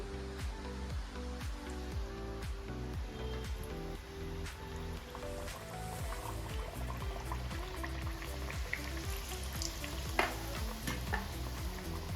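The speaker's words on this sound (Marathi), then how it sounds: "आपल्या गोड गुळाच्या पुऱ्या तयार झाल्या आता आपण या तळून घेऊ" Sweet jaggery puris fry in hot oil with a faint, continuous bubbling sizzle over a low steady hum, and a few small crackles stand out.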